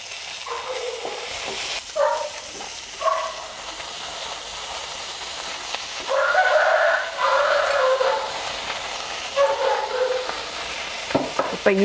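Pirandai (adamant creeper) being sautéed in a pan for chutney: soft sizzling runs underneath while louder bursts of stirring and scraping come and go at close range, with no talk.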